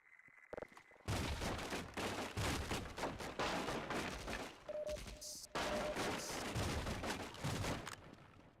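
Rocket launchers firing in a shooter game, loud bursts of blasts and explosions packed close together, broken by short gaps and a brief tone.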